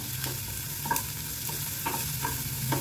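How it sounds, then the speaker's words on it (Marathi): Onion browning in a pan on a stovetop while cooking for a rava poha dosa recipe, with a steady close sizzle and a few scattered stirring scrapes and clinks, no talking. "हे बघा कांदा ब्राऊन झाला का मग बाकीचं जिन्नस टाकायचं आहे आपल्याला"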